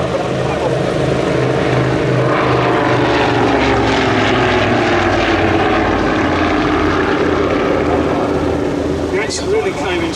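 An Avro Anson propeller aircraft flies past at a Fly Navy airshow, its steady engine drone loud and continuous throughout, with a low throbbing hum and crowd or commentary faintly audible beneath.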